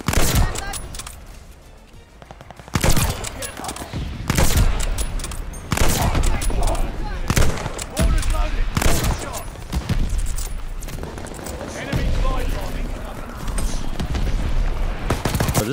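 Call of Duty Vanguard gameplay carries dense bursts of loud gunfire and sharp shots in irregular clusters across the whole stretch, with booming impacts and a player talking over the action.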